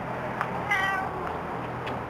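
A cat meows once, a clear drawn-out call close by against a steady background hum, with faint short noises around it.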